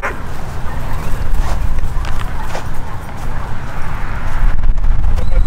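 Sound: dog barking at a dog park

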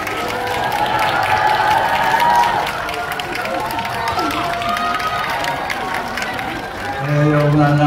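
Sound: cinema audience applause and cheering for actors

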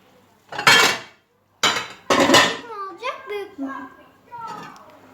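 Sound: plate being taken out of the cupboard

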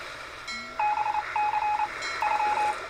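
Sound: beeping noise in Nancy Drew video game

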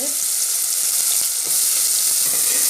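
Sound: onions frying in hot oil in pressure cooker

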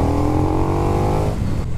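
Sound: KTM 1290 Super Duke EVO motorcycle engine revving

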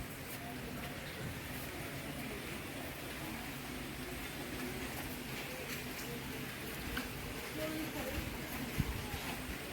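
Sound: light drizzling rain

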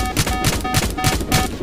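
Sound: gunfire from the video game Roblox Jailbreak

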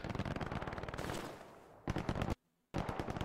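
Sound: gunfire in Hell Let Loose video game

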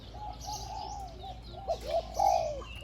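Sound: caged songbird singing two-tone song

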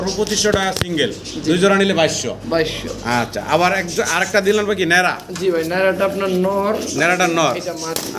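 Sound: pigeons cooing

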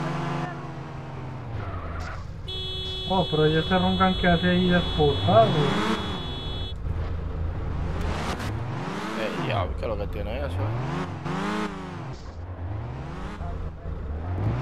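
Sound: car driving and revving in a roleplay video game

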